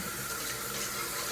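Water runs steadily from a tap, a constant hissing splash that sounds close and fairly loud, with no voices over it.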